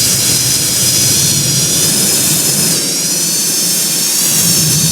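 Continuous loud video game airliner jet engine roar with a high whine on top while taxiing to the gate after landing, holding steady throughout with only a slight dip midway.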